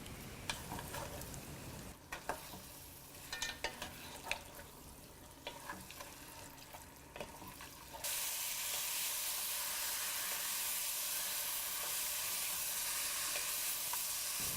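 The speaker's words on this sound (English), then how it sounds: "Then squeeze some lemon juice into this and saute for 5 minutes." Mutton masala sizzles and fries in a pan after a squeeze of lemon juice, with stirring clinks through the first half before the sizzle swells into a steady, loud hiss that continues to the end.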